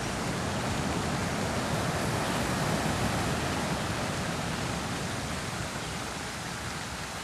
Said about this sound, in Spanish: Eso es lo más que me gusta a mí, el sonido del mar.